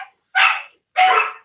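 Several dogs bark at home, a small one starting and others joining, two loud close barks with a short gap between them, no talking.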